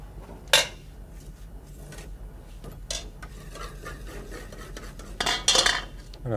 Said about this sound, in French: il nous reste à l'incorporer à notre préparation de mayonnaise qu'on a fait tout à l'heure